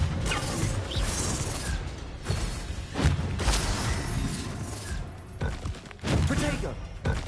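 Spell combat in Hogwarts Legacy brings a run of whooshing casts, thuds, crashes and bursts of impact, spaced irregularly over several seconds, mixed with a voice calling out incantations.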